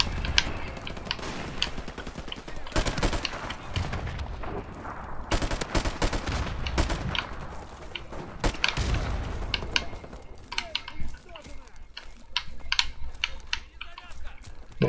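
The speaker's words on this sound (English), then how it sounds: "So they're doing burst fire and still kicking everywhere." Bursts of MP44 gunfire in Call of Duty MWR, repeated sharp volleys of automatic shots over the first ten seconds, then scattered individual shots and clicks later, with someone talking throughout.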